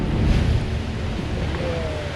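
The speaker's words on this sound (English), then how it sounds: "There's this big thundering sound of water slamming into the back wall of it" Ocean water surging into a sea cave near San Carlos, Mexico, a deep rumbling wash that thunders loudest near the start and then settles into a steady roar, buffeted by wind noise on the microphone.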